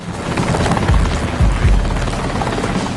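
A rented helicopter overhead during an outdoor physics experiment with a rope hanging below, its rotors producing a loud, broad roar with deep thumping pulses, close and continuous throughout.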